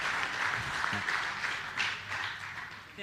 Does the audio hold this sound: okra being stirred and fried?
no